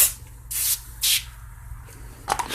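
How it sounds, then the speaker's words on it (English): Cleaner sprays onto a Husqvarna chainsaw in three short, sharp hissing bursts close by, with quiet pauses between them. "We'll spray away here."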